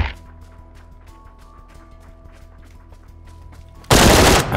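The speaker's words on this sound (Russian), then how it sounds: "Наслаждается выстрелами." Rapid gunshots in the video game Battlegrounds crack in a steady rhythm over a humming electronic drone, then a sudden loud burst of blasting noise takes over at the end.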